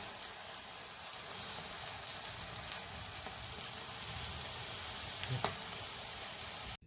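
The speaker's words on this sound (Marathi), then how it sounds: "आणि मिडियम गॅसवरच आपल्याला तळून घ्यायचे, कारण आजपर्यंत शिजले पाहिजे." Cabbage manchurian balls deep frying in oil over a medium gas flame, a quiet, even crackling hiss with scattered pops, cut off abruptly at the end.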